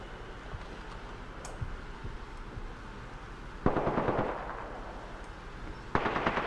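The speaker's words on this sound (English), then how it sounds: "I am taking fire, friends." Gunfire erupts in a firefight in the video game Apex Legends, two loud sustained automatic bursts, each roughly half a second long and a few seconds apart, over a low ambient rumble and a few faint distant shots.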